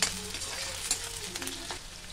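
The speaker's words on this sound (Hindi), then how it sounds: "बारीक कटी हुई हरी मिर्च भी इसी में ऐड कर देंगे। हरी मिर्च को भी अच्छे से फ्राई कर लेंगे।" Onion and finely chopped green chillies frying in a pan for Maharashtrian poha chivda, a steady soft sizzle with faint stirring scrapes throughout, no one speaking.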